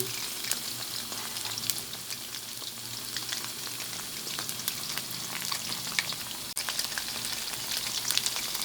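Chicken wings deep-frying in hot oil for a fish-sauce fried wing dish, a steady dense crackling sizzle throughout with occasional sharper pops, close and continuous with no talking.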